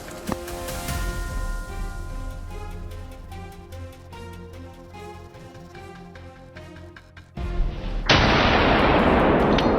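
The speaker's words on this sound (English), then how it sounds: "I carefully aligned my shot and fired. The sharp crack sliced through the still air." A rifle shot during a wild boar hunt in snow: a sharp crack among dense booming, rumbling impacts over a tonal background, ending in a loud sustained burst of noise.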